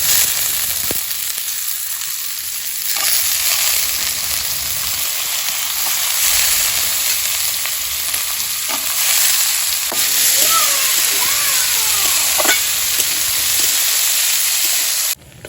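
Dal frying in a pan with a tempering of cumin, bay leaf and dried chili over a home clay stove: a loud, close, continuous sizzle with intermittent stirring scrapes, rising and falling slightly, no talking.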